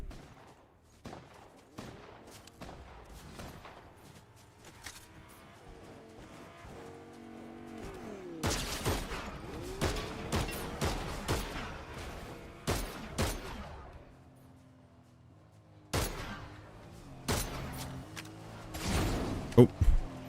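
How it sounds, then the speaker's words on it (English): Gunfire as people shoot and fight in a video game: clusters of loud cracks and rapid bursts in several spurts, with quieter stretches and engine-like noise between, and a voice talks at times over it. "Are they still over there shooting, fighting?"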